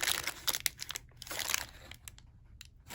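Cellophane wrapping around wax melts crinkles and crackles in quick, irregular bursts, close up and fairly soft, with brief quiet gaps between handlings.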